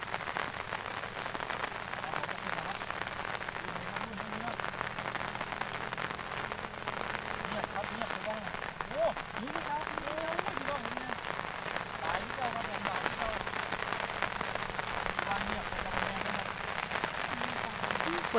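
Rain falls steadily on surfaces outdoors during flooding, a dense, constant patter that fills the whole stretch, with faint voices murmuring beneath it.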